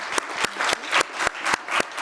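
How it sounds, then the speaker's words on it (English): A business-panel audience gives the speakers a short round of applause, heard as sharp, regularly spaced claps at a brisk rhythm, fairly close and distinct rather than a dense crowd wash. "Can we get one more round of applause for our speakers today?"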